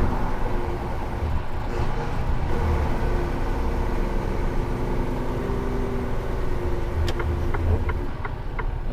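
A truck on the road gives a steady, moderately loud engine rumble that holds throughout, with a few faint clicks and a slight swell toward the end.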